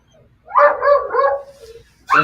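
A dog barks close by, a drawn-out bark with a whining tail followed by another sharp bark, loud and clear against a quiet background.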